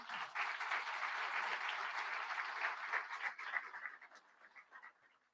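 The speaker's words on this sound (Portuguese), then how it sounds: "Vamos aplaudir o aluno." Audience at an award ceremony applauds steadily for several seconds, the clapping thinning and fading out toward the end.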